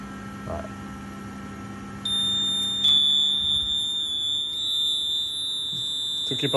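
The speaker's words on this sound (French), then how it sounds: "le VESDA il est parti en alarme." A VESDA smoke detection system goes into alarm, putting out steady, high electronic tones that hold at an even level over a low background hum, with some faint sounds of people nearby.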